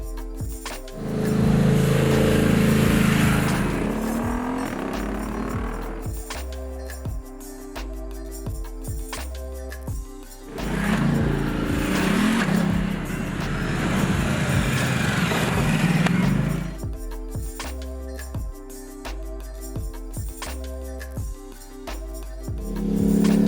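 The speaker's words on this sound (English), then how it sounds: "hearing that Italian motor mixed with these endless corners" A Ducati Multistrada motorcycle engine drones and swells while riding through corners on a road trip in Thailand, with two long louder stretches of throttle between quieter passages and music in the background.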